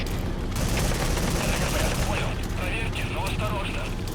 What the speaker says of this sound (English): those mortars are getting closer than I remember